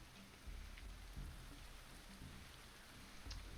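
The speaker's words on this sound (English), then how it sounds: "it is raining" Steady rain falls in the medieval survival game Going Medieval, a dense, even hiss of drops on surfaces with a few soft low thumps, quiet and continuous with no talk.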